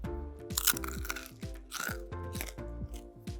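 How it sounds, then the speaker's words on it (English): Crunchy homemade cheese Twisties-style chips, oven-dried at 60 degrees until completely crisp, being bitten and chewed close up, giving a string of sharp, dry crunches in an uneven rhythm. "Listen how crunchy."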